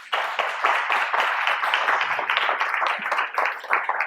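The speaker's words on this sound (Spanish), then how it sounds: "Denle un aplauso al Señor." Audience at a Sukkot church celebration clapping steadily, a dense sustained round of applause from a crowd in a hall, moderately loud and continuous throughout.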